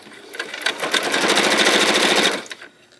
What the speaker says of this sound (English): Back to sewing.